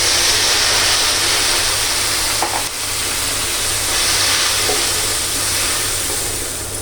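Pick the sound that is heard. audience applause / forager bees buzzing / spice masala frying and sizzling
spice masala frying and sizzling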